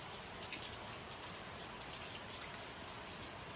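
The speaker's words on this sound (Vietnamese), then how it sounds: "Trời mưa quá rồi, phải đi về rồi." Heavy rain falls steadily on an open field at night, a dense, even hiss of drops with no breaks, heard close and alone.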